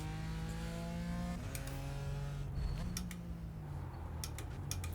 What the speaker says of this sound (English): I do love the engine noise.